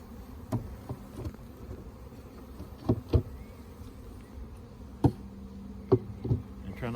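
Honey bees hum at an open hive during a spring inspection, a faint steady buzz with a few sharp knocks from the hive top and block being handled nearby.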